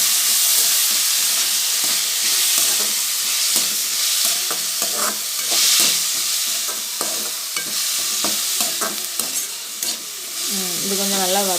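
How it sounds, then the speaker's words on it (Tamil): Cabbage, carrot and beans stir-frying with onion in a pan: loud, constant sizzling with repeated rhythmic scraping and stirring strokes throughout. "இது கொஞ்சம் நல்லா வதங்கட்டும்"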